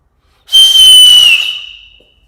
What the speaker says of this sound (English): It's gonna be a loud whistle about to happen.